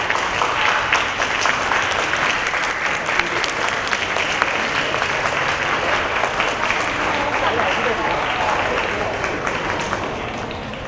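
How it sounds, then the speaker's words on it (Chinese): Sustained audience applause for the musicians at a ballroom dance showcase performance, a dense steady wash of many hands clapping throughout, slightly tapering toward the end. "我们再以最热烈的掌声感谢他们"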